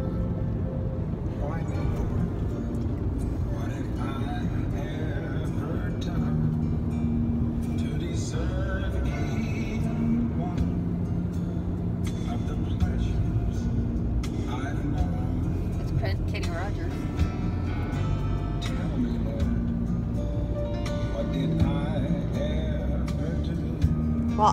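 Steady low road rumble of a car heard from inside the cabin, continuous throughout, with people talking over it.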